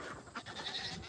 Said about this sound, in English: Come on in, goats.